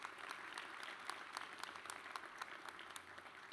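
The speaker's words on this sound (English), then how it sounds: "Please give all of them a rousing round of applause." Audience applause at a Bowie State University Founders' Day ceremony, steady dense clapping from a crowd, faint and distant, continuing without a break.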